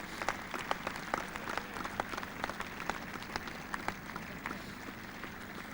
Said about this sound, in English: I think we should give them a good round of applause,